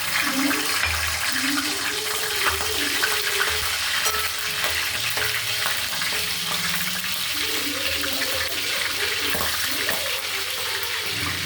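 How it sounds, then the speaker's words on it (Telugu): Green chillies fry in a hot pan with a dense, continuous sizzling hiss throughout, close and loud, while a voice talks faintly underneath. "పచ్చిమిరపకాయలు అయితే వేగిపోయాయి"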